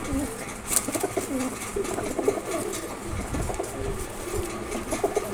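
A pair of fighting pigeons and others coo loudly and close, overlapping low warbling calls continuing throughout, with a brief flutter early on.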